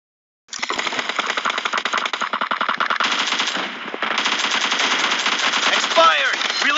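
Sustained automatic spray from an AKM rifle in a video game, a rapid unbroken burst of loud close gunfire lasting several seconds with a brief dip midway, ending in a mechanical reload clatter.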